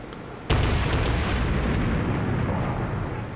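A heavy naval gun booms in a World of Warships battle, one sharp loud blast followed by a long rumbling roar of shells and sea ambience.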